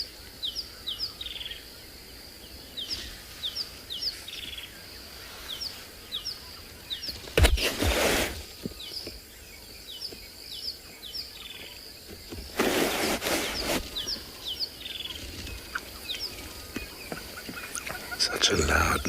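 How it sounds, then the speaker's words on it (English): A rattling cisticola at sunset at Tswalu gives rapid, repeated high chirping calls, faint and at a distance, broken by two loud rushing bursts and soft talk in the background. "now the rattling cisticola"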